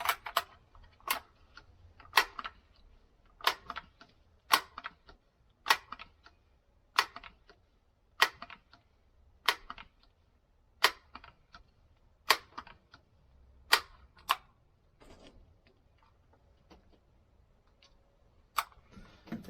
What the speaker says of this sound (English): 10 shots at 10 pumps with the Umarex NXG multi-pump 177.